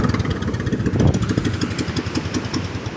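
A Honda boat engine runs steadily nearby, a loud rattling drone with a fast chugging pulse throughout.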